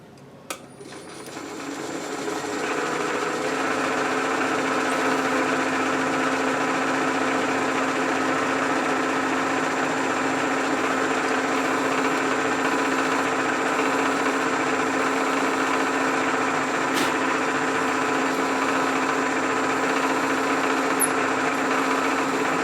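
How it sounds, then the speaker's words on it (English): A 3/16 end mill cutting metal on a rotary table while making a surface grinder lead screw: a steady high machine whine with a constant motor hum, running unbroken after a brief start-up. "We're going to use a 3/16 end mill."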